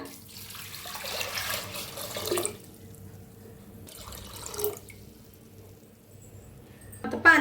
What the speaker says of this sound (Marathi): डाळीला स्वच्छ धुवून घेते आता स्वच्छ धुवून घेतलेलं आहे पाणी ओतूया